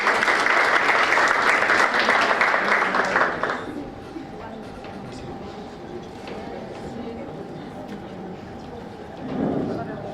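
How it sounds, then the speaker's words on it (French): A hall audience at a three-minute thesis contest applauds a finished speaker, loud, dense clapping for about three seconds that then drops away, leaving a quiet room and a voice speaking near the end. "Et vos applaudissements, mesdames et messieurs"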